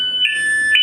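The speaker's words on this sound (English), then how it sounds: "you'll send an evac tone off to the pass alarm" A firefighter PASS alarm sounding its evacuation tone: loud, piercing electronic beeps, two sharp high bursts about half a second apart over a steady tonal hum.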